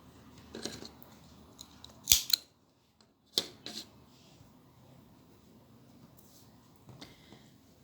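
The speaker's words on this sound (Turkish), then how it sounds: "Hemen kesiyorum ipimi." Sharp scissors snip through yarn while a triangle-shaped crocheted bag is finished, two quick close cuts followed by another crisp snip against a quiet room, with a few faint handling noises afterward.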